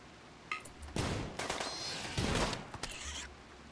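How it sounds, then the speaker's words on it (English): Automated turrets firing in the colony-building video game Rimworld, a burst of rapid gunfire volleys in clustered, loud bursts with brief pauses between, no voices present. "the turrets are shooting through us"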